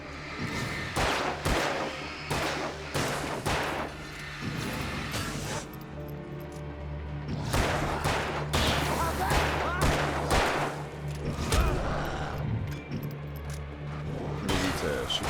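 Gunfire in Alan Wake rings out in loud, irregular shots and rapid volleys over a low, steady droning background. The shooting runs throughout, close and dense.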